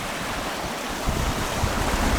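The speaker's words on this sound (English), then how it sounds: "Cross over the waterfalls just here." A small waterfall on a Scottish Highlands walk near Ardvreck Castle rushes in a dense, steady broadband wash, close by, with a slight surge after the first second.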